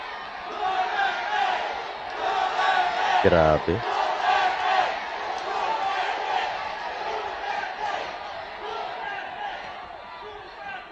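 A crowd roars and cheers in a large gathering, a loud sustained mass of shouting voices with a brief sharp rising yell partway through, while a nearby voice speaks over it.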